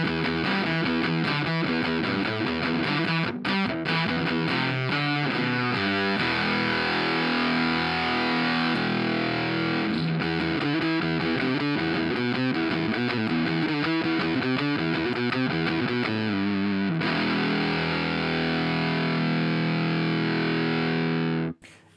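Electric guitar through a Behringer Super Fuzz pedal, a loud, dense, buzzing fuzz tone playing a continuous riff of quick chords and notes, with a sustained chord near the end.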